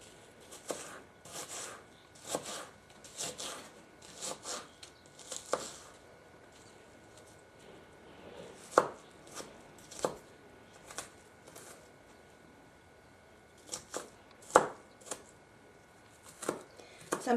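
A knife chopping a cooking onion at medium size on a cutting board, quiet crisp taps in irregular clusters with short pauses between runs of cuts.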